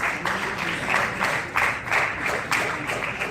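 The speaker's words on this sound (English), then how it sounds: "Let's have a round of applause." Applause from the audience at a college group discussion competition as a contestant is introduced, a steady wash of clapping with a few louder surges, moderately near and without talk over it.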